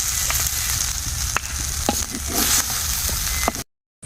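Spiced masala paste sizzling steadily in hot oil for a Bengali koi fish horogouri, with a few sharp scrapes of a spatula stirring it, close and continuous before cutting to brief silence at the end.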